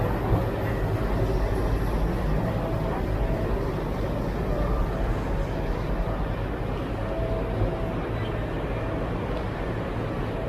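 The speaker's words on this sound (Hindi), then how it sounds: "ICF कोचेस से रात भर ट्रैक साउंड बढ़िया है" Steady rumble of an Indian Railways express with ICF coaches hauled by a WDG3 diesel locomotive, wheels drumming continuously on the track, loud and unbroken for the whole stretch with no talking.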